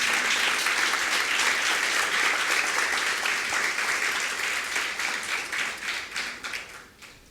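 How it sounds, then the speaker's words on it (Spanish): A church congregation applauds God, a loud, full round of clapping that holds steady and then fades out toward the end. "Creo que podemos alabar a nuestro Dios con un fuerte aplauso"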